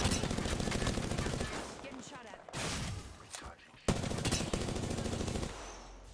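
Rapid automatic gunfire in Apex Legends aimed at the player, loud bursts of shots with short pauses between them.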